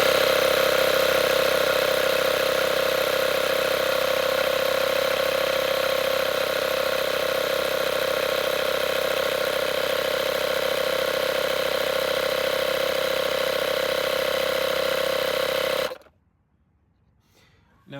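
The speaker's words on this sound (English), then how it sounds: "it's gonna take a few minutes to fill the tire with the foam and then to build up the pressure." A Tesla tire repair kit's air compressor hums steadily and loudly at close range while filling a Model 3 tire with sealant foam and building pressure, a constant motor drone that stops abruptly near the end.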